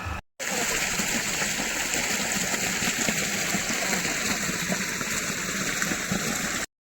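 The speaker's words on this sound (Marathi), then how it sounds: "असं पाण्यात फिरते मी बघा असं मी हलते पाण्यात" A person wades and splashes through floodwater in a farm field, producing a steady, close wash of sloshing and churning water that continues for several seconds without a break.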